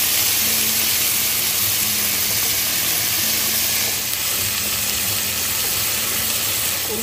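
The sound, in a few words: small prawns with tomato frying in a pan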